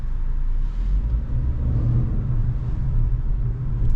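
A passing car, a low steady rumble and engine whir that swells and eases as it goes by, with no voices over it.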